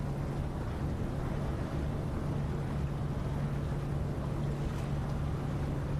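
A ship's engine in the Nautic XP simulator game runs in reverse at 2% throttle, producing a steady low hum under a continuous wash of water and wind noise, with no voices.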